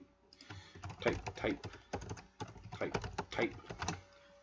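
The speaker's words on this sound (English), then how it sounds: "and then I just type" Typing on a computer keyboard, close and quick, with bursts of key clicks separated by brief pauses.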